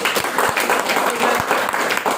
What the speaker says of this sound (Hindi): जबरदस्त तालियां उनके लिए